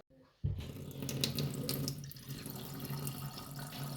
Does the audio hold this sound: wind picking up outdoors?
no